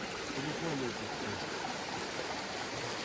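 Clear water in a stream in a Carpathian forest flows under a small wooden footbridge, giving a steady, close rushing babble with no break.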